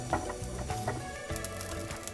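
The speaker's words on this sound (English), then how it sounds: "You can hear that cutting right now." Steady mechanical grinding and crunching from a die cutting machine pressing through a sticker, with faint clicks and ratcheting under a continuous hum.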